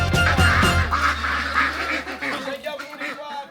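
A flock of ducks gives loud, close, overlapping honking quacks in a dense burst, thinning out toward the end, while a person speaks over the first part.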